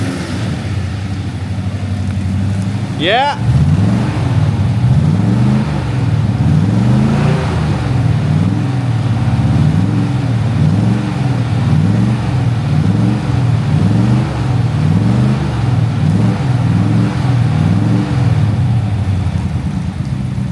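A Daimler Majestic Major limousine's Hemi V8 runs and revs steadily, a loud, close, rhythmic engine throb with repeated swells, after a brief rising squeal; a voice briefly speaks.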